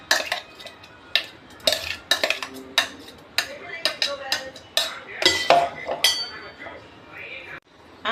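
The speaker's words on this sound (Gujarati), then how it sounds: "હવે આ બધા જ મિશ્રણને એક બાઉલમાં કાઢી લેવાનું છે." Sprout batter mixture scraped from a mixer jar into a bowl for chilla, with repeated clinks and scrapes of a spoon against metal and glass, loud and close, under a speaking voice.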